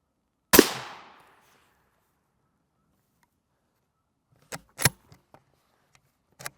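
A rifle fires M193 rounds at NIJ RF2 (III+) backpack body armor: one loud, sharp shot with a ringing decay, then a few faint clicks and handling knocks several seconds later.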